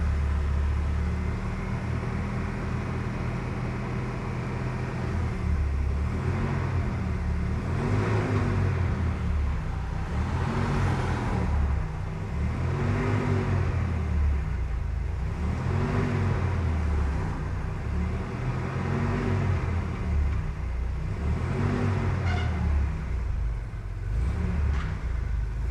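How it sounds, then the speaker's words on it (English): A Mercedes W124 engine being prepared for rally, revved again and again in a steady rising and falling cycle with the radiator fan whirring underneath, a close and continuous mechanical drone without any talk. "I give it some revs and the fan picks up momentum"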